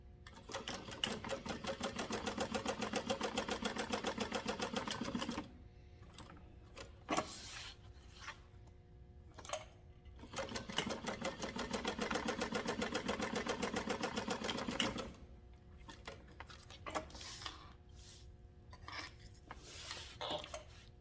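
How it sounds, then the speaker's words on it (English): Sewing machine stitching down the boxed corners of a canvas tote bag, two long runs of fast rhythmic needle chatter separated by quiet pauses with small clicks and fabric handling. "we're just going to sew this box down"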